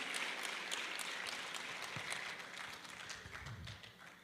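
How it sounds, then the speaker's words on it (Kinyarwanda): A church convention congregation applauds, a dense spread of clapping that starts full and slowly thins out toward the end, heard from a little distance. "Another round of applause to God."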